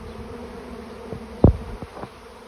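Honeybee swarm settled in the open during swarming, giving a faint, steady buzzing hum with a brief louder bee passing close by midway.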